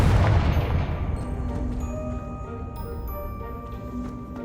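A Confringo fire spell blasting in Hogwarts Legacy, a heavy booming burst at the start that rolls into a long decaying rumble, joined by faint magical chiming tones and light ticking as it fades.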